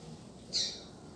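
A female double-collared seedeater (coleiro) gives a single short, bright call midway through, standing out clearly above faint outdoor background noise with no talking.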